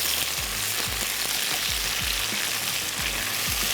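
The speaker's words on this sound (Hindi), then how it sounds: "थोड़ा सा इसको फ्राई करते हैं" Potato slices fry in a pan with meat for a beh gosht dish, a steady sizzle with repeated soft stirring knocks throughout, close and alone.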